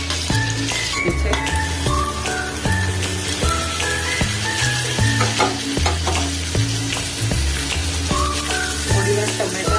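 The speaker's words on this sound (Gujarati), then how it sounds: "થોડી વાર ટમેટા અને કાંદાને ખવા દઈશું." Tomatoes and onions sauté in a spoonful of oil with garlic. A spoon scrapes and stirs the pan in repeated bursts over a constant sizzle, close up and without speech.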